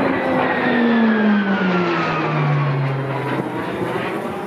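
A loud propeller airplane engine drones nearby, its pitch sliding downward as it revs and settles, with no voices.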